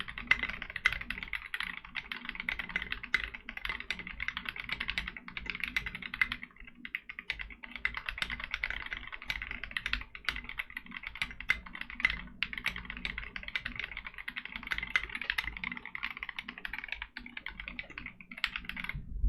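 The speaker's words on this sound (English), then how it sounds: "Alright, then let me just type a little bit." Typing on a nice!60 wireless custom mechanical keyboard, a continuous fast stream of close, crisp key clacks with brief pauses, alone and without talk.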